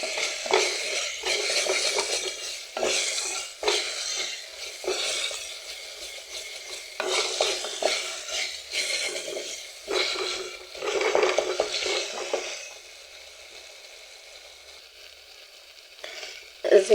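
Thick shiro, a chickpea flour stew, is stirred and fried in a pot, the spoon scraping in repeated bursts of close, gritty strokes with short pauses, then fading to a quieter stretch near the end.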